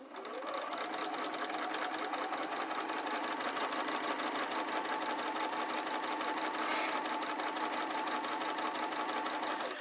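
A sewing machine stitches slowly around the curved edge of a garment pocket, a steady close mechanical whir with a fast, even needle rhythm running without pause.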